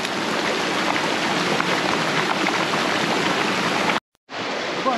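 Heavy rain pours in a constant, loud hiss of dense drops, unbroken until a brief dropout near the end, then resumes just as strongly.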